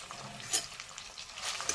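Chopped tomatoes for chicken curry fry in a pan with a soft, continuous sizzle and light stirring scrapes, close but quiet, over a brief moment.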